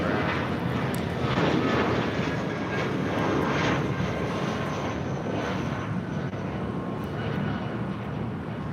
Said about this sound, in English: This is Viva Aerobus 511 taking off to Viva Guadalajara.